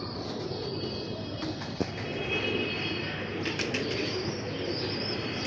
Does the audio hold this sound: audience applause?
no